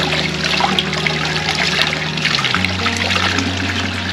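Natural spring water trickling outdoors in a historic hot springs town, a steady close wash of running water with a low hum underneath that shifts partway through.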